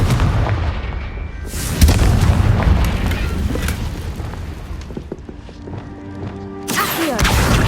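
In Hogwarts Legacy, a Confringo spell sets off loud, booming explosions with rumbling low impacts and sharp blasts, near and heavy, and the game sound continues throughout.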